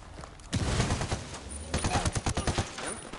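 Video game gunfire erupts in loud, rapid volleys, with dense bursts of automatic shots crackling close by after a short rumbling lead-in.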